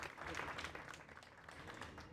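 An audience at a Tax Nights event applauds for a guest speaker, a dense, steady wash of many hands clapping that stays even and moderately distant throughout, with no voices rising above it.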